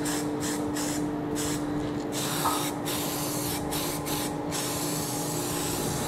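Steady, close hiss of a spray gun applying paint to a Mercedes Sprinter cylinder head, continuing evenly throughout with faint shuffling in the background.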